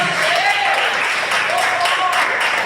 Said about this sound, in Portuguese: Então exalte o Senhor com as suas palmas.